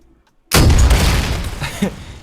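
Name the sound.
rocket launcher explosions in third person shooter video game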